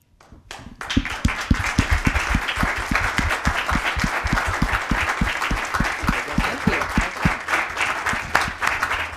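An audience at a City Club of Cleveland forum breaks into loud applause that swells quickly, with a few close hands beating sharp, regular claps over the crowd's dense clapping.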